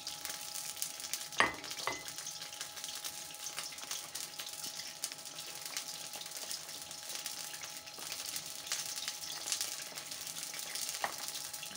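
Cauliflower florets being mixed with gram flour batter by hand in a bowl, giving a steady, soft, wet squelching and stirring texture throughout, with a couple of sharper clicks near the start and no talking.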